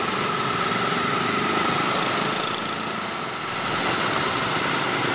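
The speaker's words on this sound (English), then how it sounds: "Okay, motorbike, very exciting." A motorbike engine on a Ho Chi Minh City street runs at a steady, buzzing drone nearby, dipping briefly in the middle before settling back to a constant hum.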